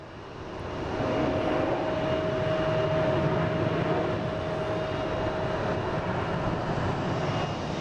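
A FedEx Airbus A300 freighter taxiing at an airport gives a steady broadband engine roar with a thin sustained whine, swelling after the first second and holding loud and even throughout.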